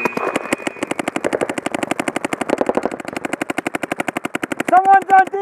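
Rapid, sustained bursts of paintball markers firing during a speedball match, loud and close, with a fast continuous rhythm and a brief shout near the end.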